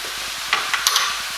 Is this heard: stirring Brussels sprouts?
yes